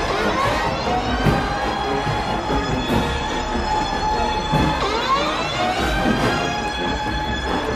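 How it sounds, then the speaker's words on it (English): A siren wailing steadily with rising and falling tones, loud and continuous, with a rumbling low background. "the siren is louder than y'all"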